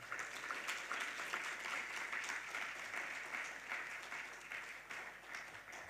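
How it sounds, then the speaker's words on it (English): An audience at a conference opening gives a sustained round of applause, a dense, steady wash of clapping heard from a distance and lasting throughout. "I'd like us to welcome him with a round of applause as he comes to give us his opening"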